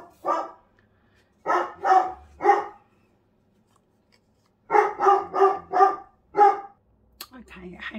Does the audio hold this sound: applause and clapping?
no